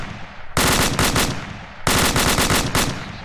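Two loud, close bursts of sustained automatic AK-47 rifle fire in ArmA 2, each roughly a second long, separated by a short pause, with no talk over them.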